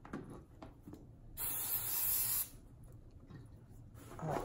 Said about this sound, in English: So I just sprayed it